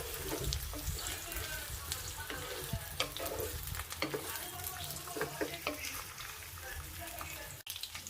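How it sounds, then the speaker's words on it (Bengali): Chopped onions sizzling in a generous amount of hot oil for a chicken dish, a continuous dense frying hiss with occasional stirring scrapes and clinks, close and steady throughout with no voices. "পেঁয়াজ কুচিগুলো তেলে দিয়ে দিব এবং পেঁয়াজ বেরেস্তা করে নেব।"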